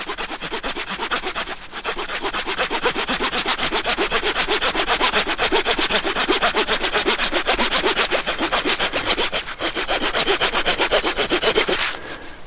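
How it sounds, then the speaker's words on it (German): Rangerwood 55 folding knife saw cutting through a wooden stick, a fast steady back-and-forth rasp of close, loud strokes continuing without pause for the whole stretch, with a brief hitch near the start and near the end. "man könnte also noch durchaus etwas sägen, was bestimmt doppelt so dick ist"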